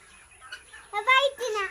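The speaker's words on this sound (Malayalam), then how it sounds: "പോളിഷ് ക്യാപ്പ് എന്ന് പറഞ്ഞ ഫാൻസി കോഴികളാണ് കേട്ടോ." Polish cap fancy chickens with crested heads on a farm let out a short burst of close, tonal clucks, the second half louder than the first, against quiet background noise.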